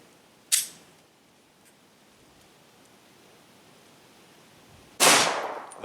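Two sharp, loud pistol shots from a 5-inch barrel M&P 2.0 handgun, spaced several seconds apart, each with a short ringing decay and quiet background between.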